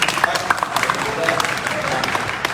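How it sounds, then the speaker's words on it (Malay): An audience at a forum applauds in a steady patter of many hands, moderately loud and continuous for a few seconds with scattered louder claps. "Abang minta tepuk tangan."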